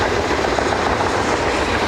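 A train rolls past alongside Route 66 near the Grand Canyon, a steady, loud rumble with clattering wheels and no pauses, close by and heard alone.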